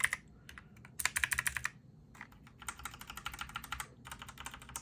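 Logitech G715 wireless keyboard with blue clicky switches being typed on, crisp fast bursts of sharp clicks in several runs separated by brief pauses, close and alone.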